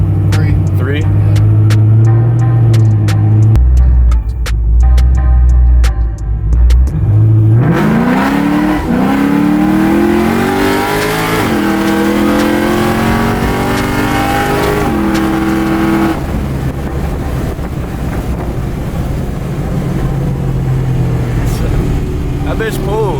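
A 500+ horsepower all-motor Pontiac GTO with a three-speed transmission idles, then roars through a loud wide-open-throttle pull with rising engine pitch and gear changes, heard from inside the car as people talk over it.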